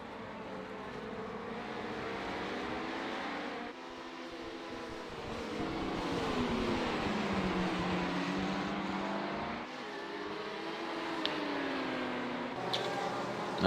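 GT race cars, including a BMW, launching at the race start at Interlagos in a sim racing game: a pack of engines drones and rises in pitch, swelling as cars accelerate together, with moderate loudness throughout.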